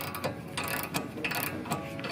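A 19 mm wrench tightening the tie rod nut on a Honda Civic gives rapid, close metallic ratcheting clicks in quick irregular bursts with no talk.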